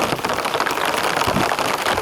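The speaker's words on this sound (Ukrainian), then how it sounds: "Якраз дощ усилився в місті Дніпро" Heavy rain falling in the city of Dnipro, a loud, dense, continuous patter with no voices.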